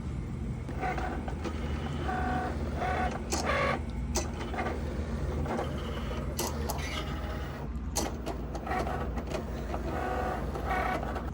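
A vinyl cutting machine cutting iron-on vinyl, a steady mechanical whir with repeated higher buzzing bursts as the blade carriage moves back and forth, fairly close and constant throughout.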